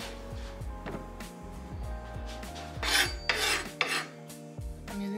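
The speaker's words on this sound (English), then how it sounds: "I'm using the back of my knife to scrape the cutting board so that I don't dull my knife." A knife's spine scrapes across a cutting board after ginger is trimmed, giving several rough rasping strokes, the loudest bunched in the middle, close by with quiet kitchen background.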